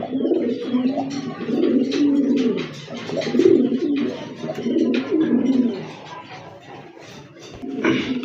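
A pair of large pigeons cooing close by, repeated throaty coos in rounded bursts with brief pauses, alongside faint rustling and background chirps.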